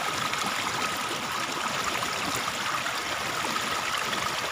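Shallow water flows steadily through a rice-field fish trap, a continuous close trickling and gurgling rush with no voices.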